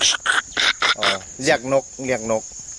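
A person in Thailand whistles and chirps a series of short, high bird-like calls to attract birds, a voice imitating a bird, with quick repeated notes close by.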